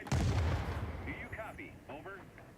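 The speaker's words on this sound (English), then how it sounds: "So I let the two teeny Tims go, let the rockets go, and sure enough, we took it." Rocket salvo from an F-84 striking a large armored target in a flight combat game, a loud rumbling blast burst at the start that decays into a lingering roar, with short tonal game effects and a faint voice following.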